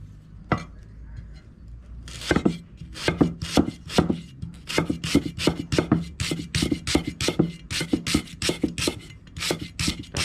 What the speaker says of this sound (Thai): ผมก็จะ ต่อด้วยการ เอา ตะไคร้มาซอยอันนี้